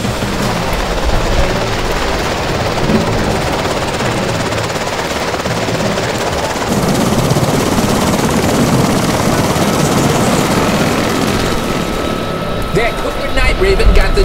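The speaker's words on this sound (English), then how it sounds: "The chopper is bringing in slipstream." A helicopter flies in over a boat at sea, its loud, continuous rotor and engine roar filling the scene and growing slightly stronger partway through, with voices speaking over it.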